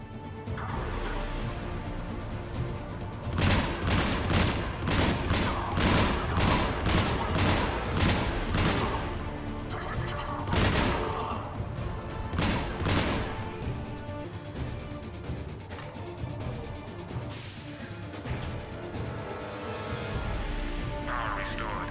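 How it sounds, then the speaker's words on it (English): Anti-aircraft guns in the Mass Effect 3 video game fire in rapid, loud bursts of repeated booming shots, densest early on and thinning out later, set against a constant background rumble. "Shepard, AA guns are back online."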